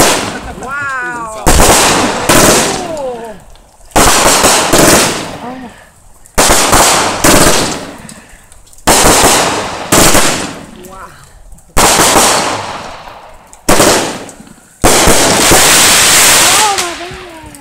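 Fireworks explode loudly and nearby in a steady series of about seven big bangs, each trailing off into crackles and fizzing, with excited people's voices heard between the blasts.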